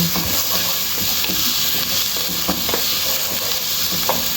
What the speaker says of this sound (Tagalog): ihalo-halo lang natin guys hanggat mag-brown